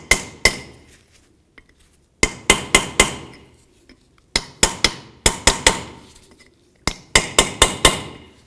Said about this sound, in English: using a punch and a hammer. Just give it a couple love taps.